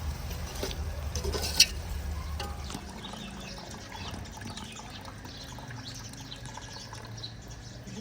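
Water bubbling in a pot for pulao in an outdoor village kitchen: a soft, steady, low-level seething that runs throughout, with a brief clatter early on and faint birds chirping in the background.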